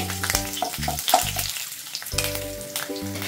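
Three allspice leaves tossed into hot oil for a broad bean and capsicum rice dish, giving a close, crackling sizzle with light stirring scrapes and no talk.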